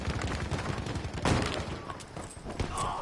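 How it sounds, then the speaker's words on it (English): Rapid machine gun fire in the Battlefield V video game rattles in dense bursts for a few seconds, loud and close, with a heavier blast near the middle. "Machine gun!"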